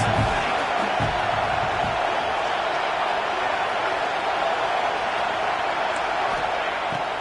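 A football stadium crowd roars steadily through a third-down play, a dense wash of cheering and whooping with occasional thumps, sustained at full volume throughout.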